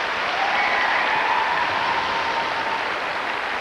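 Steady, sustained applause from a large arena audience after a men's free skate at 1998 Skate America, a dense even wash of clapping with no pauses and no voices on top.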